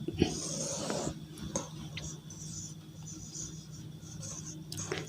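Chalk or marker scratches across a classroom board in short, quiet strokes, with soft breathy murmuring and room noise around them.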